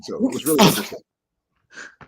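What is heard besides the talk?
a woman sneezing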